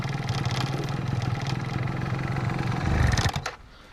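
A two-stroke motorcycle engine running poorly on a lean mixture with the choke fully released sputters and drones unevenly, swelling briefly near the end before cutting off abruptly into quiet.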